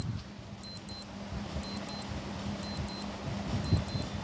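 A quiz countdown timer sounds in paired electronic beeps, two quick high pips repeating about once a second over a soft background hum.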